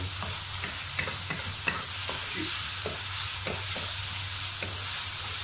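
Sambal for nasi lemak stirred and frying in a pan, a steady sizzle with repeated scraping strokes of the spoon, close and alone without talk.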